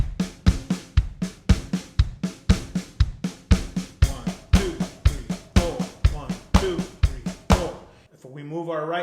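Drum set playing a steady four-on-the-floor kick pattern with a backbeat on two and four, regular sharp hits repeating evenly and close, ending with a short burst of speech after the beat stops.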